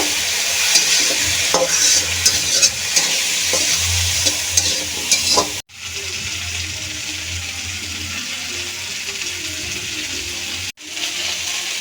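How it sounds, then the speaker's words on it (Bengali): Cauliflower frying in a pan with salt and turmeric, a loud close sizzle with stirring clatter, broken by two brief cuts to silence. "একটু ভেজে নেব"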